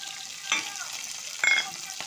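Onion and green chilli fry in a pan, a bright steady sizzle with two or three louder bursts where pieces hit the hot oil, heard alone without speech.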